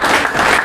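An audience at an award function and mushaira gives a loud, dense burst of applause, steady clapping from a crowd welcoming a guest, brief and close.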